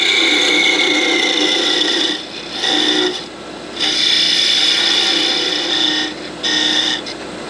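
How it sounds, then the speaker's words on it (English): A parting tool cuts into a wooden Christmas sphere ornament spinning on a lathe, giving loud, steady rasping scrapes in several long passes separated by short pauses. "And I'm going to use a parting tool."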